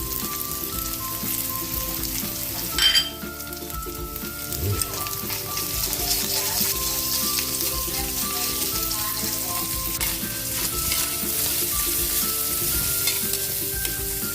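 Ground meat and onions frying in a pan, a steady crackling sizzle throughout with occasional stirring scrapes and a short clatter early on, close and moderately loud, with no talking.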